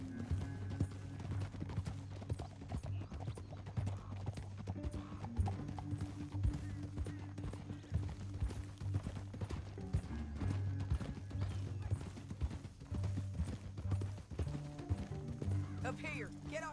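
Horse hooves clip-clopping steadily in the Red Dead Redemption 2 video game, close and continuous under game music and a low rumble, with a faint whinny.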